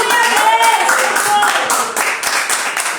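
A church congregation claps along during a worship service, with dense, steady clapping filling the whole stretch and a voice speaking over it near the start.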